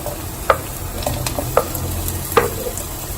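Potatoes frying in a pan, a steady soft sizzle with a few sharp clinks of a utensil against the pan, stirred close up with no voices.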